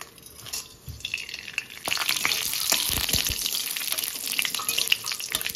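Bay leaves and whole garam masala of cinnamon, cardamom and cloves drop into hot oil for pulao. After a quiet start, a sudden loud burst of sizzling and crackling spatters on continuously.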